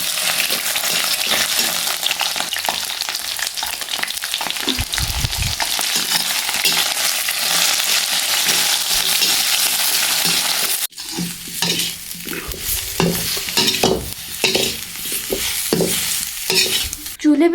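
Taro (arbi) curry cooking in a pan on a wood-fired chulha, a loud steady sizzle with frequent scraping stirs that turns choppier and more clattery partway through, close up with no voices.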